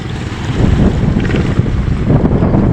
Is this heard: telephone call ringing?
no